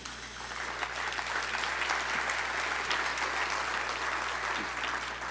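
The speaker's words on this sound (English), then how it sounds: "You're clapping at that as if that were difficult" An audience claps for a legacy honoree at an awards event, a dense, steady round of applause that holds evenly throughout and fades slightly at the end.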